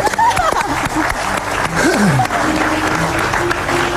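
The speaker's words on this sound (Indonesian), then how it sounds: "Tepuk Cika tangan, pintar. clap your hands." An audience at an Indonesian television talk show claps hands together, brisk close clapping running throughout while voices talk and exclaim over it.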